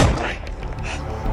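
One sharp gunshot opens with a heavy thump in a zombie apocalypse video game, followed by a brief fading rumble.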